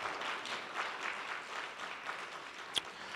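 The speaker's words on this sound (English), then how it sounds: "Come on, let's give her a round of applause." An audience at a minority health summit gives a steady round of applause. The dense patter of many hands is fairly faint and distant, with one sharper clap near the end.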